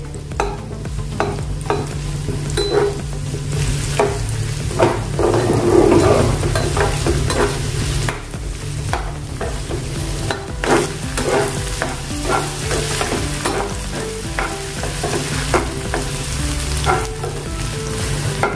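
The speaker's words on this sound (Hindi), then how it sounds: "मीडियम आकार के मैंने 4 प्याज को काट लिया है। प्याज को हम भुनेंगे।" Four medium chopped onions fry in oil, a continuous close sizzle broken by frequent scraping and clinking stirring strokes in the pan, with no talking.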